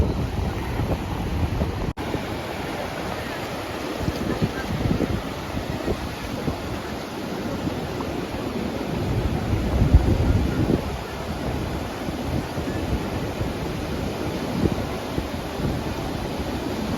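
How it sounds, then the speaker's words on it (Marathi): Sea waves wash onto Alibag beach in Maharashtra, a continuous surf roar with gentle swells in loudness, mixed with steady wind buffeting the microphone. "सो हा टोटल अलिबागचा बीच आहे, समुद्र आहे."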